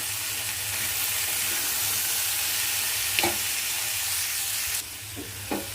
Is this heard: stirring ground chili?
yes